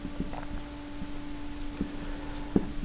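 A pen writes out a matrix solution on paper, giving faint, irregular scratches and light taps spread over a few seconds, quiet against a steady electrical hum, with no speech.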